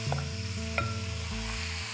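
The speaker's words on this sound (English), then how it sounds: "I'm going to sear the meat for 3 to 4 minutes on a high flame" Mutton pieces searing on a high flame after garlic paste, a loud, close, continuous sizzle with stirring scrapes and a low burner rumble underneath.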